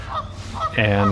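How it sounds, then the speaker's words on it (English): Canada geese at a birds of prey centre honk loudly nearby in a sustained call, following a brief voice and soft earlier honks. "You can hear some honking geese behind me"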